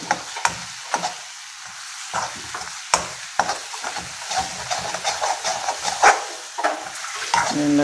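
Chilli powder being stirred into a dish in a pan, with scraping spoon clacks and light sizzling repeating through the stretch, fairly close and with no voices.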